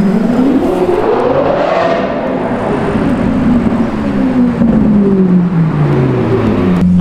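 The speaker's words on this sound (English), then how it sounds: "Wait, there's a fancy car coming down the street." A fancy car drives down a street in old Montreal, its loud engine and tyre roar sweeping past close by with a pitch that rises then falls as it passes, with no talk.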